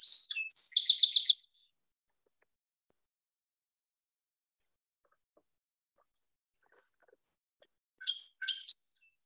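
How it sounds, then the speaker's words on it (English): Song sparrow song: a crisp run of bright, distinct chirped notes, then a long silence and a second shorter burst of clear notes, fairly close and alone. "we will listen to the song sparrow song and then also the call"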